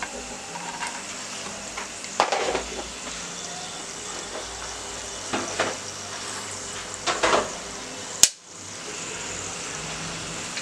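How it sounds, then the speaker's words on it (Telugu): Cinnamon stick and star anise frying in oil in a pan for a mutton curry, a steady soft sizzle with occasional stirring scrapes and a sharp clank near the end. "ఒక అంగుళన్నర చెక్క ఒక నాసుపు ఇవి వేసుకొని కొద్దిగా వేగనివ్వాలండి"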